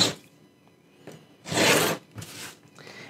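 Printed paper piano game cards trimmed along a ruler: a soft scraping cut swells for about half a second, then a fainter second stroke follows, close and quiet with no talk.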